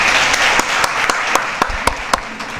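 An audience applauds after a networking skills presentation, a steady wash of clapping with a few sharp individual claps standing out, fairly close and loud, no talking.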